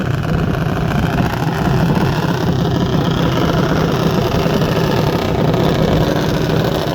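Loud, steady rumble of junior dragster engines idling nearby at a drag strip, a continuous low throb with no pauses.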